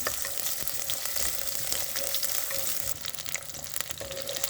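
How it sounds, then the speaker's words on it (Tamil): Onion, garlic and fenugreek sautéing in oil in a pan for a salted fish curry, a loud continuous sizzle and crackle with occasional stirring scrapes, close up and without speech. "இப்போவே வெங்காயம் பூண்டுலாம் வதங்கிடுச்சு."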